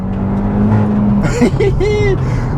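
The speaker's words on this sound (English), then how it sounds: "it gives you little farts on an upshift" A 2021 Hyundai i20 N with a four-cylinder engine hums under acceleration, then a sharp exhaust pop cracks out as it shifts up. The engine drone carries on at close range while a person talks over it.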